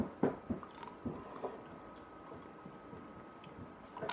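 Someone chews jelly beans close to the microphone, with soft wet bites and squishy crunches, most dense at the start and then tapering into quieter scattered chews.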